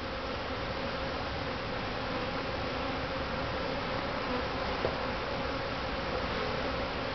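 Honey bees swarm around an opened top bar hive, making a dense, steady buzz that is close and unbroken for the whole stretch, with no voices.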